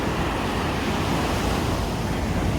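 Continuous broadband roar of sea waves on the beach at Puri in the early morning, with steady surf and some wind noise on the microphone and no voices.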